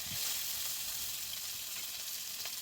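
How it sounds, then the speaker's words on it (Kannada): Curry leaves and slit green chillies hit hot oil while a Mangalorean crab curry is cooked, a faint but continuous hissing sizzle, with a brief crackle now and then and no talking. "ಇದಕ್ಕೆ ಕರಿಬೇವಿನ ಸೊಪ್ಪು ಆಮೇಲೆ ಹಸಿಮೆಣಸಿನ್ಕಾಯಿ ನಾನು ಸ್ಲಿಟ್ ಮಾಡಿಟ್ಟಿದ್ದೆಲ್ಲ ಅದನ್ನು ಹಾಕುವ ಈ ಥರ"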